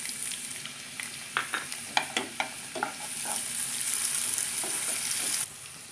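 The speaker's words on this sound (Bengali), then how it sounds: "ভালো করে একটু ভুনে নেব।" Tomato and ground spices, including garam masala, fry in a pan with a soft, steady sizzle. A flurry of sharp stirring clicks and scrapes comes early, then the hiss swells briefly before cutting off.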